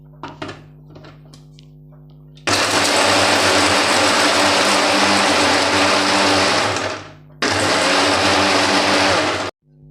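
A mixer grinder whirs loudly as it grinds coconut pieces with a little water for dosa chutney, running steadily for about five seconds, pausing briefly, then starting again before cutting off; a few clinks come before it starts.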